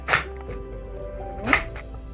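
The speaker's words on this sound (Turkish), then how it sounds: "Doğrayacağım artık." Two crisp knife chops through beetroot on a cutting board about a second and a half apart, close by, over a steady low background hum.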